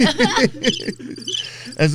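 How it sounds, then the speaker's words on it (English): A cricket chirp sound effect plays on a podcast as a gag, a rapid trilling pulse that repeats in short bursts, loud and close. "Oh, there's the crickets."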